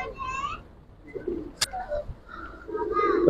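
A pair of Kaldom Giribaz pigeons coos close by in short separate phrases with quiet gaps between, plus one sharp brief click in the middle.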